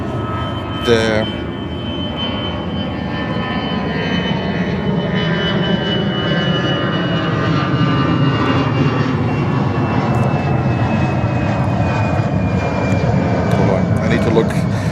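An airliner lines up and takes off from runway 13 right at JFK, New York, a loud, steady jet engine roar building through the whole stretch as someone talks over it.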